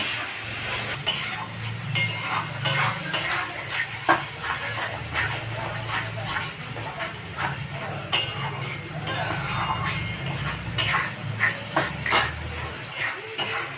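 Spice paste with chilli and other ground spices being stir-fried in a pan for a Bengali doi katla fish curry, with a soft steady sizzle under repeated scraping and clinking strokes of a spoon against the metal.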